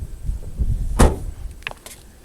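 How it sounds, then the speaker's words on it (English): A car door on a Mazda 6 being shut, a single sharp thud at mid-clip, preceded by low rumbling handling noise and followed by a couple of faint clicks. "Let me close this door."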